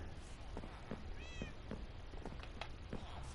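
A Minecraft cat gives a short, high meow from a modest distance amid steady in-game background noise, with faint clicks and taps scattered through.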